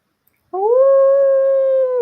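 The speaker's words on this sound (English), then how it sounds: "Rusty, Turnoff, and Buffy are attacked by a herd of vicious dogs" A pack of vicious dogs in a video game lets out one long, steady howl that rises and then holds, loud and alone with no talk over it.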